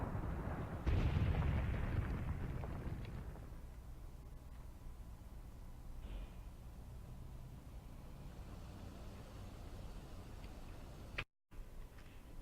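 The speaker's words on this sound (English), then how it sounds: "something just exploded" A muffled explosion booms in Graviteam Tactics, the war game's blast rolling out loud at the start and fading into a long distant rumble with faint ticks, no voices over it.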